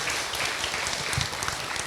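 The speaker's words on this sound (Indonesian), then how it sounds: "Tepuk tangan buat ibu yang bertanya." A religious talk audience gives a round of applause, a soft, steady patter of many hands clapping that sounds somewhat distant and lasts about two seconds, with no voices over it.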